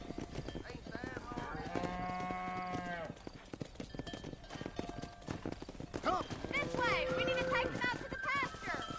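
Cattle in the Red Dead Redemption video game low and moo repeatedly while being herded down a road, with clip-clopping horse hooves underneath and a voice talking over the drive.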